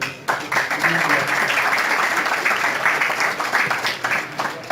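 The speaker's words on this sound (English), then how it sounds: "give yourselves a round of applause for that" Audience applause breaks out suddenly and continues steadily, a dense, lively wash of many hands clapping that tapers slightly at the end.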